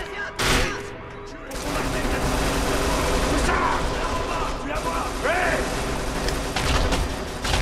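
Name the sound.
gunfire in the video game Kane & Lynch 2: Dog Days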